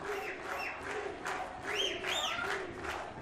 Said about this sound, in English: I'm just gonna leave you to hear this cheer.